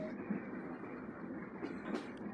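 Benapole Express passenger train running on rails between Kotchandpur and Dhaka, a steady low rumble of wheels and carriage noise heard from inside, with faint rattles and a brief squeal.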